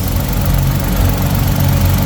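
Steady low rumble of a Nissan Navara 4x4 pickup engine idling in good running condition, constant and close with no voices.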